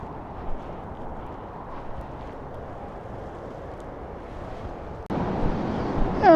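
Wind gusts in a storm, partly blocked by bushes and a hedge, make a steady broad rush with no talk. It swells noticeably louder toward the end.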